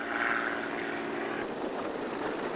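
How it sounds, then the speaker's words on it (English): Steady aircraft engine drone from planes taxiing and landing nearby at an airshow, a continuous propeller hum that rises slightly as one passes, with no talking. "Got them taxiing on the ground. Got one landing here."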